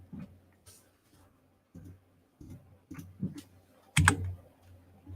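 Someone enters a password on a computer keyboard with short bursts of key clicks and taps, spaced irregularly, ending in one sharper clack, close and fairly quiet.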